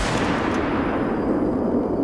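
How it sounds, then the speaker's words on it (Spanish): A single gunshot rings out, a loud, dense burst of noise that spreads into a rumbling reverberant tail filling the whole short clip. "Un disparo partió el aire."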